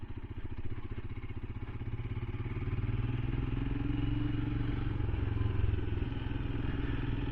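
Royal Enfield Himalayan single-cylinder motorcycle engine thumping steadily while riding off-road over bumpy ground, a close, loud, continuous low pulsing rumble that swells slightly as it pulls through a corner, with no voices.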